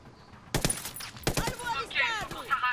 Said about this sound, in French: L'ennemi a entendu le coup de feu.